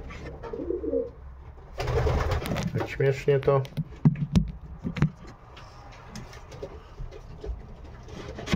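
Pigeons coo softly in a breeder's home loft before a show, a brief burst of wing flutter and clatter rising in the middle, while someone talks nearby.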